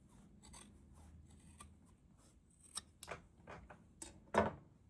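Scissors snipping fabric for a quilt coat, a few crisp cuts spaced irregularly, the last one loudest, close by over a quiet room hum.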